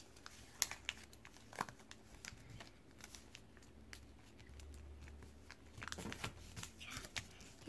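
Paper being creased and folded by hand into a ddakji, a Korean folded-paper game tile, heard as faint, sparse crinkles and soft snaps close by in a quiet room, with no talking.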